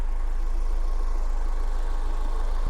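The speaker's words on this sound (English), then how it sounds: "Engine sounds great" A 2003 Toyota MR2 Spyder TRD sports car engine idles with a steady low rumble, continuous and close, with no talking.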